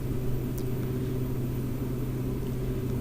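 A steady, low aircraft engine drone plays in the X-Plane 11 flight sim as the throttle is eased back on approach. The deep hum is even and continuous, with no talk over it.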